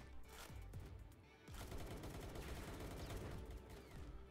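Gunfire in Palworld, rapid bursts of automatic shots crackling in clusters, loud and close, with a brief pause before a denser volley resumes.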